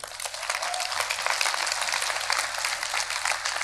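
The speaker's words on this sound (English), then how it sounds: "give the Lord a big hand clap" A church congregation claps continuously, loud and dense, a steady wash of applause with no voices standing out.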